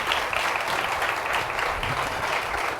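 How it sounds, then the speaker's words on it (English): Steady round of applause from an audience at a university legacy lecture event, dense continuous clapping filling the whole stretch at moderate loudness. "please give them another round of applause"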